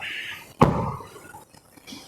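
A car's rear door with the child safety lock engaged is tried from inside: one loud, sharp thunk of the handle or latch, followed by a brief fading rattle, with no talk.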